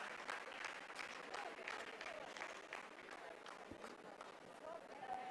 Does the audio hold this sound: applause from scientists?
yes